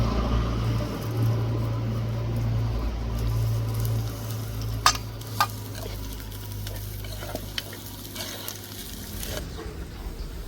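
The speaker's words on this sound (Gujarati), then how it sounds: "આ ટાઈમે આપણે નાખી દઈશું લીલું લસણ" Green garlic sizzles as it goes into golden brown frying onions in a pan, a steady crackling fry with a few sharp clicks of a spoon against the pan, with a low hum underneath that stops near the end.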